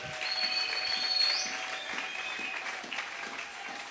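A church congregation applauds at a service, steady, dense clapping that fills the room throughout, with a sustained tone from instruments or a sound system underneath.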